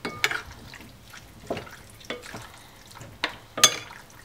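Pasta being tossed with courgette and ricotta, heard as several separate wet stirring and scraping strokes spaced about a second apart, up close and moderately quiet.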